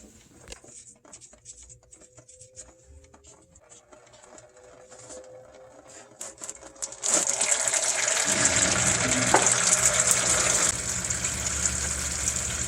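Transmission fluid from a TH400 automatic gearbox starts as scattered drips and ticks, then bursts midway into a loud, continuous gushing pour that runs on steadily to the end.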